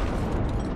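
A tank gun fires in the Hell Let Loose video game, a loud, dense low boom filling the whole moment with heavy rumble and no voices over it.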